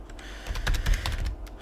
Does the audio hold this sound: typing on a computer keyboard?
yes